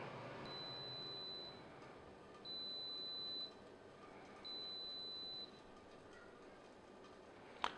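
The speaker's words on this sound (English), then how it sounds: "All right, so we just got ourselves three beeps." Three long, steady electronic beeps from an air fryer and pressure cooker combo timer reaching zero, evenly spaced about a second apart over a quiet hum, followed by a brief click.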